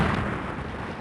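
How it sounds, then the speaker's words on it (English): A rumbling explosion sound effect from a radio comedy, laser cannons blasting a hole through a prison cell wall, a dense low roar that fills the whole second without voices. "Suddenly, an explosion."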